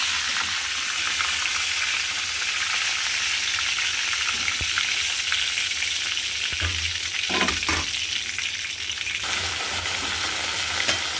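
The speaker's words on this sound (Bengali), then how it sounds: "আমি এরকমভাবে প্রত্যেকটা পটলই ভেজে নেব" Pointed gourd (patal) fries in hot oil with a steady, loud, close sizzle that continues without pause, broken by a few soft knocks of stirring and no talking.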